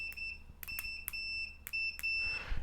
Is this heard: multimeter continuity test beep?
yes